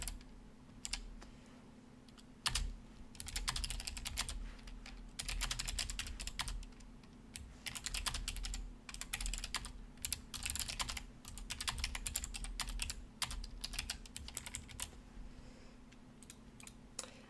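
Someone types steadily on a computer keyboard in a quiet room. Close, crisp key clicks come in uneven bursts with short pauses, and a low steady hum runs underneath.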